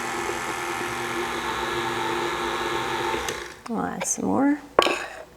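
A stand mixer whirs steadily while dry ingredients are mixed into wet chocolate chip cookie dough, a continuous mid-loud motor drone that stops near the end, followed by brief clatters and a voice speaking.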